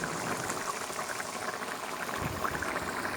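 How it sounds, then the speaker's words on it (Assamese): Local chicken curry bubbling in a pot, a close, steady simmer of popping bubbles and soft liquid gurgles with no voices over it. "দেখিছেনে ওচৰৰ পৰা দেখাই দিছোঁ উতল আহি আছে"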